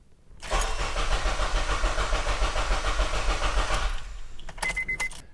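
A car engine cranks with a dead-battery charging-system test underway, a loud rapid churning of the starter that runs for over three seconds, then stops and is followed by a few light clicks and jingles.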